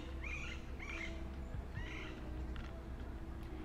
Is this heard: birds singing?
yes